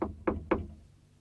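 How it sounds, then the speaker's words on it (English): Three crisp knocks on a door at the entrance to a flat, evenly spaced and close by, each fading quickly into quiet. "and knocked on Mary's door."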